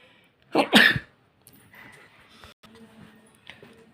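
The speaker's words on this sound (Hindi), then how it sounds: "माफ़ करना, छींक आ गई थी" A man sneezes loudly twice in quick succession, a sharp burst near the start, followed by quiet rustling and faint background sounds in an indoor teaching setting.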